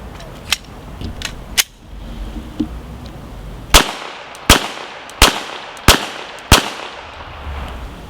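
A 9mm Glock pistol fitted with a Lone Wolf conversion barrel fires five sharp, loud shots in a steady rhythm about two-thirds of a second apart, each with a short ringing tail, after a few fainter distant pops.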